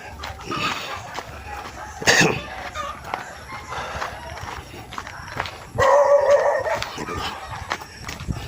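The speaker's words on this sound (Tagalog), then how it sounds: "Dami ng aso." Dogs barking in a few short bursts amid outdoor noise and footsteps, with a louder cluster of barks near the end.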